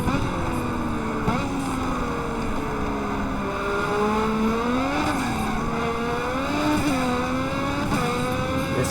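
A race car engine in the sim racing game Automobilista, roughly 1,300 horsepower, droning loud and steady with rising and falling pitch as it revs through gears, filling the whole stretch without talk.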